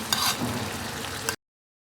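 Spinach dropped into a pan of frying chicken: a short, close sizzle and crackle of hot oil that cuts off abruptly.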